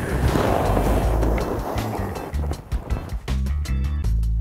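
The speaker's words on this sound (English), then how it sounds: "driving the pick of the axe into the snow, both feet kicked in" A climber's body slides fast down a soft snow slope, then an ice axe pick is driven into the snow to self-arrest, giving a long loud scraping rush followed by a series of sharp crunching and scuffing impacts as the slide stops.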